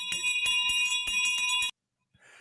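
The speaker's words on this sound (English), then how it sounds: "It's like Christmas bells." A bright bell with a tinkling, Christmas-like ring repeats in quick, loud strikes for under two seconds, then cuts off abruptly, leaving a brief faint hiss afterward.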